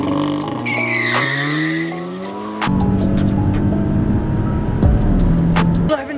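A tuned Stage 2 Audi S3 launches hard at a drag strip, tires squealing as the engine revs climb through rising harmonics, then shifts and keeps pulling loudly and close, with no talking.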